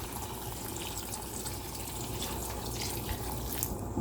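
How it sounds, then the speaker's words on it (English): Water runs steadily into a pot of stewing plov, a continuous close splashing and trickling pour with no talking. "So I'm going to add a little bit of water."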